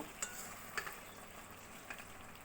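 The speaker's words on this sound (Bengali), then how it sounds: "এবার দিয়ে ভালো করে একটু নাড়িয়ে নেব" Fish with lemon leaves is stirred in a pan over a faint, steady sizzle, with a few soft clinks of the utensil against the pan, quiet and close.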